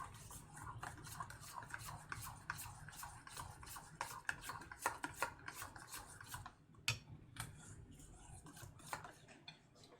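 A nearly empty pepper grinder gives a close, raspy, crunching grind in quick, uneven bursts, faltering and thinning out toward the end with no talking.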